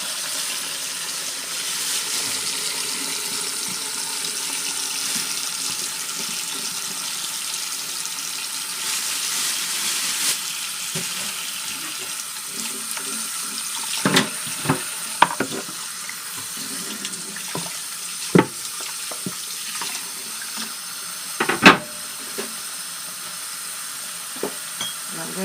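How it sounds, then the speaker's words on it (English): A running kitchen tap pours steadily over a mackerel being rinsed in the sink, a constant hiss of water broken by scattered clunks and splashes as the fish is handled. "I'm going to rinse my fish"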